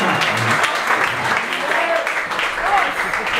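Club audience applauding a keyboard player introduced during a live band show, sustained clapping and cheering close by with a voice talking over it.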